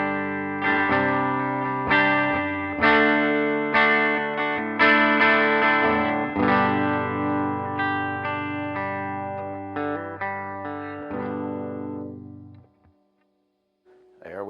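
A bass line played through a Harby Noble Tone overdrive, boost and distortion pedal with reverb, sustained notes in a steady sequence before the final note rings out and the reverb trails off into near silence.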